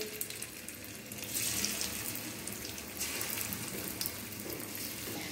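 Seela fish sizzles in hot oil in a large pan, a dense, steady crackling hiss that carries on without pause, close and moderately loud.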